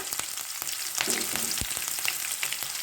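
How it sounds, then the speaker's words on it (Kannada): Urad dal, green chillies and peanuts roasting in hot oil for makhana chitranna, giving a steady close sizzle and crackle with faint scraping stirs and no voices. "ಇಷ್ಟನ್ನು ಹಾಕಿ ಚೆನ್ನಾಗಿ ರೋಸ್ಟ್ ಮಾಡಿ"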